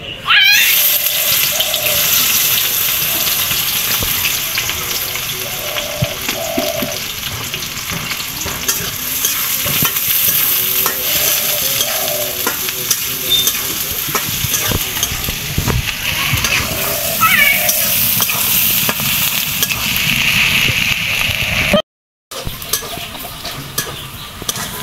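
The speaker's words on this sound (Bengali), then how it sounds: "এখন দিয়ে দিব পেঁয়াজ" Onions frying in hot oil in a wok for a beef bhuna, a loud steady sizzle with stirring scrapes throughout, close up, with faint voices in the background and a brief dropout near the end.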